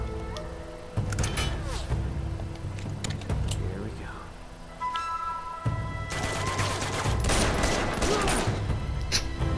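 Bursts of gunfire from the video game Uncharted 2: Among Thieves, with repeated sharp shots and rapid volleys spread across the scene, loud and close amid other game effects.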